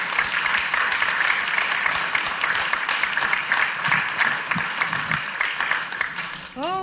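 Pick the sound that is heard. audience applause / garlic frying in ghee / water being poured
audience applause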